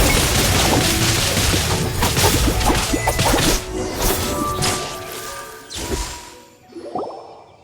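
Explosions and sword whooshes in the game Genshin Impact, a loud dense run of booms, whacks and swishing blasts that thins out near the end into a few scattered impacts.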